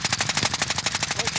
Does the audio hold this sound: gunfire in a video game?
yes